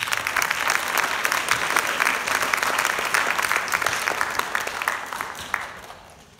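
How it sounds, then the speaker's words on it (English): High school band festival audience gives the student musicians a loud round of applause, a thick sustained clapping that gradually thins and fades out near the end. "Let's give a round of applause to the students."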